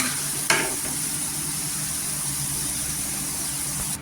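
Papaya vegetable pieces fry in oil, a steady, even sizzle with a brief stirring clatter near the start, close and continuous with no talk.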